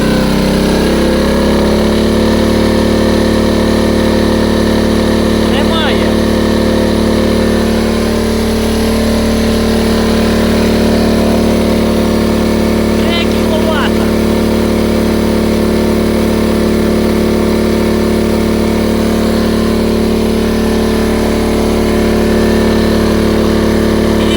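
A FOGO inverter generator runs loud and close under maximum load from an 800 W electric pot, a steady droning engine hum that settles into an even pitch after a brief rise at the start, with no speech.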